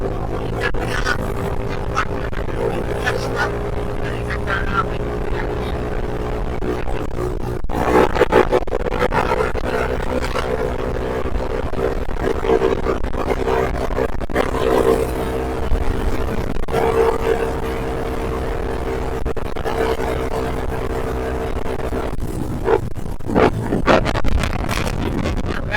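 Motorcycle fitted with a custom aftermarket exhaust, heard on a ride to work, giving a steady low rumbling drone with throaty surges and rising revs, continuous and fairly loud for the whole stretch.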